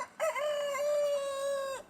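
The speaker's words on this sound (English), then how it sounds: "These curious chickens have proven to be more than just egg layers" One chicken at a care home lets out a single drawn-out crowing call lasting well over a second, clear and close with no one talking.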